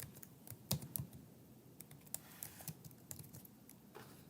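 Keys on a computer keyboard clatter faintly as a password is typed, a quiet irregular run of individual clicks and taps with a few louder strokes near the start.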